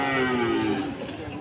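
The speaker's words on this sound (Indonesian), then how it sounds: "Ini area sapi-sapi bagus." Cattle moo loudly and close at an Indonesian livestock market, a single long, low, droning call that fades toward the end.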